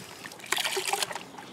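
Water trickles and splashes as a foam sponge air filter from a 140cc Briggs & Stratton push lawn mower is squeezed and rinsed in warm soapy water, a short close burst of dribbling liquid with no speech.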